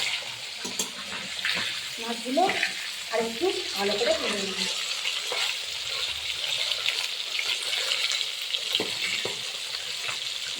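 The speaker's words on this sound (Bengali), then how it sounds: "আমি এবারে মাছগুলো আস্তে আস্তে করে ভেজে নেব" Pieces of rohu fish fry in hot mustard oil with a continuous, crackling sizzle close to the microphone. A voice talks briefly over it early on, then the frying carries on alone.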